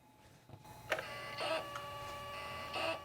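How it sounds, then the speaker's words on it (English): A SuperDisk drive in an Apple PowerBook G3 Wallstreet laptop whirs and clicks, giving several short mechanical bursts and buzzing seek noises spaced irregularly over a few seconds, quiet and close with no talk. "There goes the super disk."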